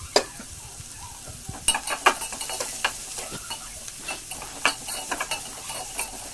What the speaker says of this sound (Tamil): ஸோ வெங்காயத்தையும் அந்த பூண்டையும் போட்டு நல்லா வதக்கலாம்.